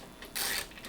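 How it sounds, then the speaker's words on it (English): A wrench snugs a bolt on a sit-stand desk while caster wheels are being fitted, giving one brief, faint mechanical ratcheting scrape close by. "so I'm just going to use my wrench here to get it snug."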